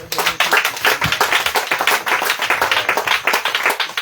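A church congregation claps in acclaim of Jesus during a French-language sermon, a loud, fast, rhythmic run of many hands beating steadily and close together for the whole stretch.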